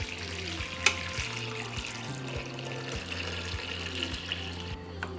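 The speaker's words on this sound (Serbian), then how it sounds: "Zatim ću u šerpu sipati toplu vodu." Warm water is poured into a cooking pot for pasteurizing jars, a steady moderate stream splashing and gurgling with faint clinks, heard close without speech.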